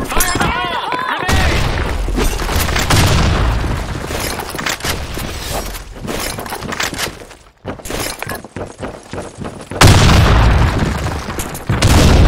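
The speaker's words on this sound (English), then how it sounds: "Fire in the hole! Grenade!" Grenade blasts and heavy gunfire in a video game: loud booms with shattering debris, dense crackling shots throughout, and game voices shouting over the din.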